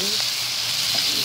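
Pineapple tidbits stirred into frying pork humba, giving a brief, steady, close hiss of sizzling oil with a faint soft stir, no voices.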